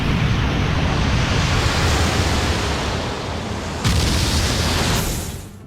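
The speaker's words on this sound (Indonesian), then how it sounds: "Seketika terjadi ledakan besar yang berasal dari gunung api yang berada di bawah laut." A massive, rumbling roar like a huge blast from an undersea volcano in the One Piece anime, sustained and surging like crashing surf, loud and close, then easing off.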